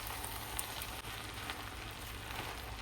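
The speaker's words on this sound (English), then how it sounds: "And give it a little mix again." Pancit noodles frying in a pan give off a constant, close crackling sizzle like light rain, with faint stirring taps underneath.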